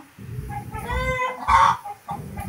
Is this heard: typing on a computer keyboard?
no